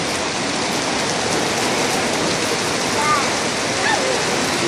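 Steady, dense rainfall hissing loudly throughout, with a few faint chirps barely audible beneath it.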